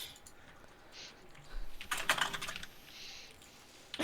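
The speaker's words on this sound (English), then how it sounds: "Everybody's typing." Several people typing on computer keyboards during an online game-show session, quick clattering key presses that build into a dense burst of clicks mid-clip, fairly close and moderately loud.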